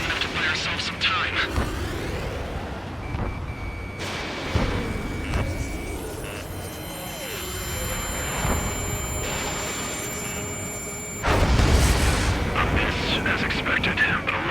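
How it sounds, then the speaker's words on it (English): Railgun fire in the Ace Combat 7 flight combat game, heavy booming blasts scattered through a dense battle mix, the loudest burst late on, with speech heard over the noise. "Some kind of energy weapon. No, it's a railgun."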